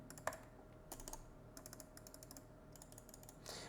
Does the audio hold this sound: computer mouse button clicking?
yes